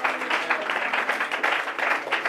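A church congregation at a Bible teaching on Exodus applauds to acclaim the word of God, steady dense clapping from many hands sustained throughout without any voices above it.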